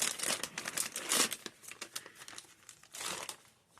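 Plastic packaging crinkles and rustles as a parcel holding a hair brush is torn open by hand, in a series of close, uneven bursts with brief pauses between them.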